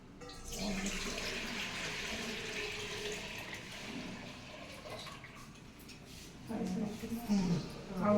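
Tap water runs steadily into a vessel in a home kitchen, a continuous splashing rush that lasts throughout, with people talking nearby over it.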